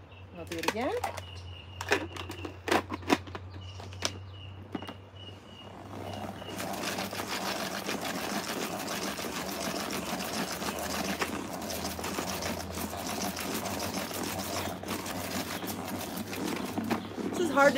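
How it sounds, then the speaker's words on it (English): A salad spinner whirls to throw water off freshly washed material, giving a steady whirring rush that starts partway through and keeps going loudly to the end. "So I'm gonna put this back in the salad spinner."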